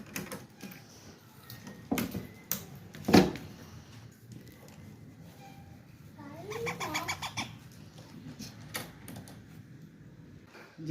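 A pet parrot in a home gives a few sharp, bright calls and squawks, with one louder burst near the start and a rapid chattering series midway, over quiet room noise.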